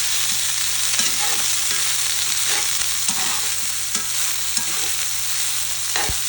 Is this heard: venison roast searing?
yes